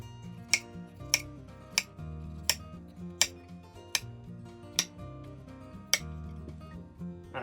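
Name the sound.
knife cutting and dicing a tomato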